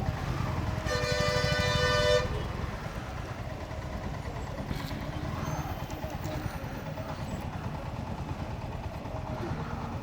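Busy road traffic on a diverted route with large buses passing, opening with a loud sustained car horn blast lasting about two seconds, followed by a steady dense rumble of engines and passing vehicles.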